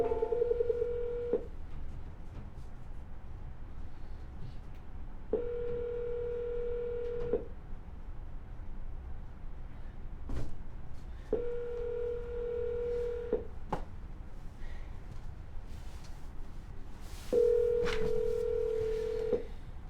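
Four bursts of touch-tone dialing, each about two seconds long, with steady chiming tones separated by pauses, heard close and clear over a low background hum from a phone call.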